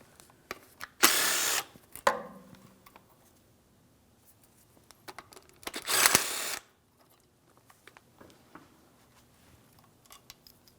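Power tools remove bolts on a 2007-2014 GMC Sierra 2500 HD 6.0L during an engine oil cooler hose job, two loud half-second bursts from an impact or drill separated by light metallic clicks and handling noises, close by.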